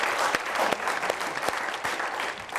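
An audience at a Hindi poetry show applauds a poet, a dense, steady burst of clapping from a crowd that runs through the whole moment.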